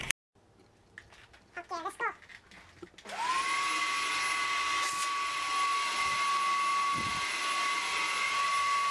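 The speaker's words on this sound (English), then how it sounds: "I must vacuum clean him." Household vacuum cleaner switching on and running loud and steady, a high whine over broad suction roar while sucking up moths during an infestation clean-up, preceded by brief talk.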